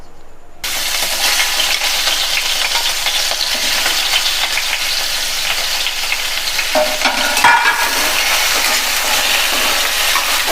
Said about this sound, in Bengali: তেলটা গরম হয়ে গেছে। এবার আমি আলুগুলো তুলে দিচ্ছি।